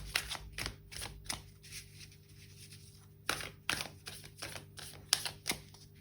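Tarot cards shuffled and drawn at close range, giving a run of sharp papery snaps and riffles in irregular bursts with quiet gaps between them, no voices.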